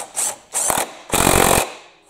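Power tool tightening an air filter on a Kohler Command engine, three short, close whirring bursts that get longer each time, with no voices.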